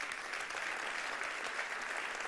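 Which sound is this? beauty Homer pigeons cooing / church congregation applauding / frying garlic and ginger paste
church congregation applauding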